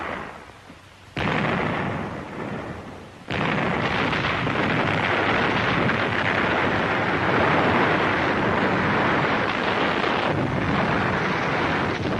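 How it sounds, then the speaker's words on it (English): Artillery and mortar explosions in WWII battle footage against fortified Japanese ridge caves, a sustained loud roar of blasts and rumble that surges sharply after a brief lull, continuing densely to the end. "Enemy mortars and artillery were still zeroed in on the path of our advance"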